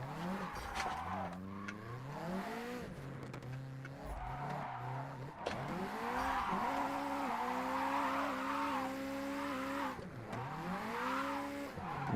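In a driving video game, a car skids with long, wavering tire squeals that rise and fall in pitch over a rumbling engine, sliding through several drawn-out bends, fairly quiet overall.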